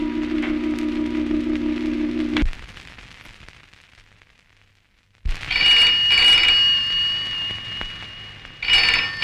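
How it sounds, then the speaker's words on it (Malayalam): A telephone bell rings in a film scene, a steady buzzing ring that cuts off abruptly, followed by a short silence and then bright, tonal ringing bursts. "മേഡം, ഫോൺ അറ്റൻഡ് ചെയ്യണം."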